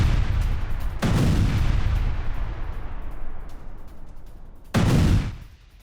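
Air strikes and bombardment on military buildings and a Hezbollah centre in Lebanon: two heavy booming explosions about four seconds apart, each with a deep rumbling tail that slowly fades, loud and without talk.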